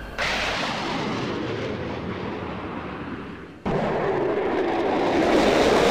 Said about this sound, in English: And this F-14's under fire, and it's been hit.